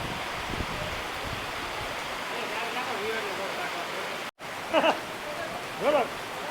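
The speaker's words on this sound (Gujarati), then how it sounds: "અડધી પોણી કલાકથી ચાલુ છે વરસાદ." Heavy rain pours down steadily during a thunderstorm at a cow shelter, making a dense, continuous hiss. Someone talks over it partway through.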